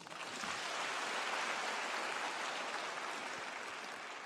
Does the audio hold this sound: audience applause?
yes